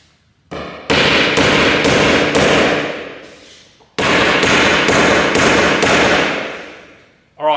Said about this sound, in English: Just going to give them a bit of a tap down with the hammer